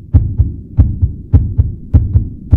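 A heartbeat sound effect beats steadily up close and loud, a low double thump repeating about every half second, with nothing else heard.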